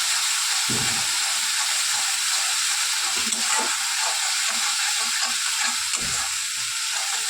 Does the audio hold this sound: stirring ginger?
yes